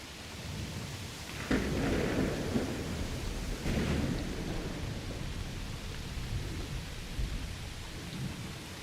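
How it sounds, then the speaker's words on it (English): A thunderstorm rumbles with heavy rolling thunder, two deeper booms standing out near the start and middle, over a constant hiss of rain. "this storm came in real time"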